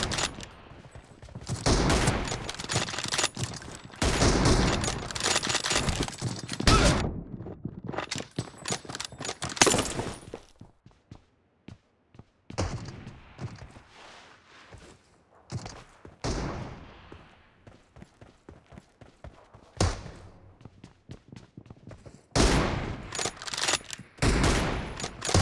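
Bursts of gunfire from a room-sniping video game session, heavy volleys clustered in loud stretches with quieter gaps between them, no talking.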